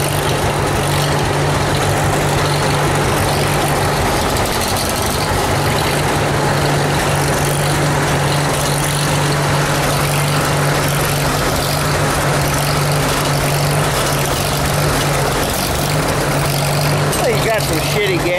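A John Deere 60 tractor engine runs loud and steady with a constant low, throbbing drone for the whole stretch, and voices are partly buried under it.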